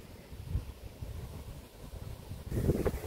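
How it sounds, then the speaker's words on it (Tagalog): Wind blowing by a lakeside in Australia, a steady low rumbling buffet across the microphone that swells louder toward the end, with no voices. "Medyo mahangin din."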